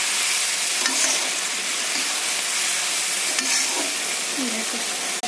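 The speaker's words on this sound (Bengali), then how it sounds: "এবার মশলা দিয়ে কষিয়ে নেবো ভালোভাবে" Pointed gourd and potato stir-fried with salt, turmeric and spices in a pan: a constant close sizzle with a few soft scraping stirs of a spoon through the mixture.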